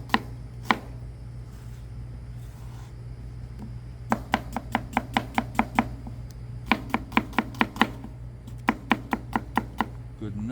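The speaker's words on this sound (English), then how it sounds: "I have an onion here that I already peeled. Cut that in half. We're going to pretty much julienne this thing." A knife slicing a peeled onion on a cutting board for a veal and pepper parmesan hero, with rapid bursts of sharp knocks in quick runs separated by pauses over a steady low hum.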